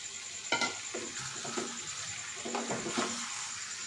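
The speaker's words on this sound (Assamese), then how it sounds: "এইখিনি এতিয়া আমি ধুনীয়াকৈ মিলাই দিম" Marinated potatoes and chicken stirred in a frying pan for a sesame chicken dish, a steady sizzle broken by several scraping stirs of the spoon, close up and with no talking.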